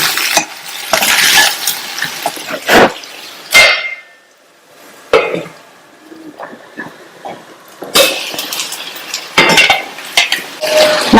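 Potato masala is stirred in a pan with a utensil, giving repeated scraping and clattering bursts against the metal and a soft simmering sizzle, with a quiet gap before the stirring resumes.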